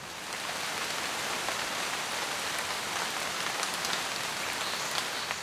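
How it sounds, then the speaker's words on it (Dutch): A rain shower falls steadily while fishing outdoors, a dense, even hiss of drops pattering on surfaces, close and continuous with no voices. "Het was net even een regenbui."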